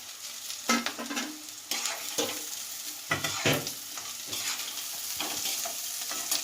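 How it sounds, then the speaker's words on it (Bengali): Fried peanuts and raisins being stirred into sizzling vegetables in a pan for Bengali chirer polao, with steady frying hiss and repeated scraping stirs, no talk. "এর সাথে দিয়ে দিচ্ছি আমি ভাজা বাদামগুলো, চিনে বাদামগুলো, আর দিচ্ছি কিশমিশ কটা"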